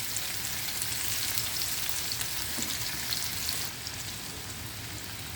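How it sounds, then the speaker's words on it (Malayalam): Sliced onions fry steadily in hot oil until browned for Kerala-style ghee rice, a dense, continuous close sizzle that drops slightly in intensity partway through, with no talking. "ബാക്കി എല്ലാ സവാളയും നമുക്ക് നല്ല ബ്രൗൺ കളറാവുന്നത് വരെ വറുത്തെടുക്കാം."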